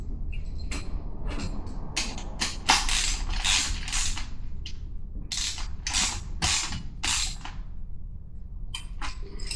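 An adjustable spanner works a nut on a motorcycle paddock stand, giving bursts of dry creaking and ratcheting clicks in uneven runs, close and fairly loud over a low background hum.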